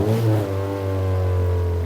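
An MEV kit car's engine runs nearby with a steady, droning low hum and layered harmonic tones, a brief louder swell early on, then settling into an even, sustained note.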